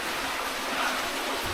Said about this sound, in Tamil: அந்த நீரோட சவுண்டு ரொம்பவே அதிகமாக கேட்குது.